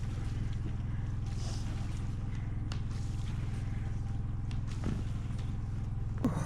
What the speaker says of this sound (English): I'm glad we got the tractor fixed.